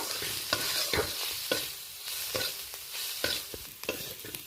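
Kasuri methi is mixed into pakora batter with rhythmic spoon strokes about every half second, close and distinct, with a light sizzle underneath and no talking.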